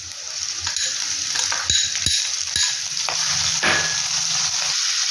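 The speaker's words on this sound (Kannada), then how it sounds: "ಮೆಂತ್ಯ ಸೊಪ್ಪು ಆ್ಯಡ್ ಮಾಡ್ಕೊತಿದ್ದೀವಿ" Fenugreek leaves going into a hot frying pan, a brisk sizzle with stirring scrapes and a few light metallic clinks of a utensil against the pan, close and continuous.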